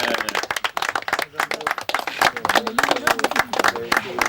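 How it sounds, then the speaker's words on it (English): An audience at a retirement gathering gives a round of applause, with loud, distinct close hand claps mixed with voices and cheers as the clapping swells. "I reckon we ought to give Joe a round of applause for all that, don't you?"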